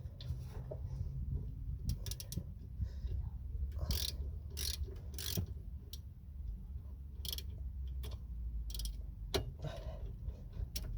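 An Allen key bit undoing brake caliper bolts on a Ford Fiesta Mk6 makes a series of sharp ratcheting clicks and metallic ticks, close and irregular, over a low background rumble.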